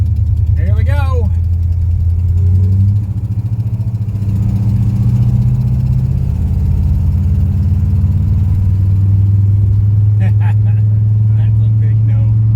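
A Lincoln car stuck in first gear, its engine droning and revving steadily at close range throughout, with a voice breaking in briefly near the start and again near the end.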